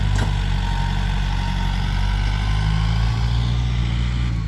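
A new tractor runs steadily while pushing a pile of dirt for hire, its engine a loud, constant low rumble through the whole stretch with no talking.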